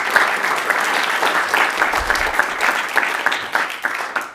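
An audience at a university seminar claps steadily throughout, a dense, fairly close round of applause welcoming the speaker, with no talk over it.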